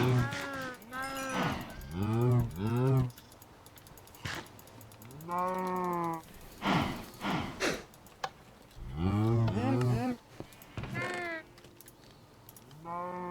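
Several Minecraft cows moo one after another, loud and close, with short mechanical clicks in the gaps between calls.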